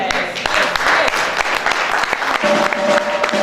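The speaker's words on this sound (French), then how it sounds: "Je pensais que quelqu'un allait applaudir." Guests at a couples' conference dinner applaud, a continuous wash of clapping from a room of people, fairly loud and close, with faint voices mixed underneath.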